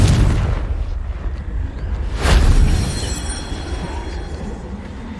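A Confringo spell blasts in Hogwarts Legacy combat: one loud, sharp explosive burst in the middle of a rumbling, noisy scene, followed by a fading low roar.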